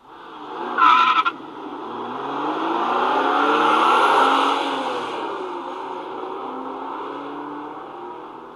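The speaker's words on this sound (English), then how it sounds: "Batman jumps in, takes it off auto, closes the canopy, and speeds off" The Batmobile speeds off with a short squeal at the start, then a rising engine roar that swells and fades as it pulls away, with no talk.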